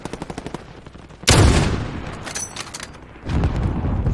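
Gunfire in Call of Duty Modern Warfare, a One in the Chamber match: a quick run of light clicks, then a loud, sudden shot burst that decays, followed by another booming blast.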